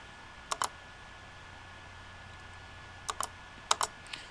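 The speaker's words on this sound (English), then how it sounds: "So we're going to hit the key that has W on it" Keys tapped on an assistive interface keyboard during text entry: a single click, then a quick pair, later two more short clusters of crisp taps over a faint steady hum, with no talking.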